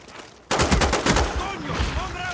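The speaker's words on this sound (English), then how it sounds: "What is that big ass gun I hear over here?" A heavy gun in Black Ops on PS3 fires a fast rattling burst that starts abruptly and keeps going loud and close, with voices faintly underneath.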